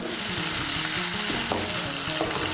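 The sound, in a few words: water poured into hot potato-eggplant curry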